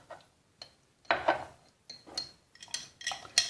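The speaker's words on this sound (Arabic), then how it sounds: "نخلط الكل جيدا" A spoon stirs honey into a drink, clinking and scraping against the cup in short, irregular bursts with quiet gaps between strokes.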